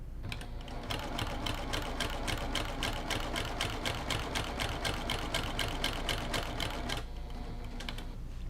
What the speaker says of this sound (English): you want to have your sewing machine in the needle down position and just stitch on the lines and pivot as close to the point as you can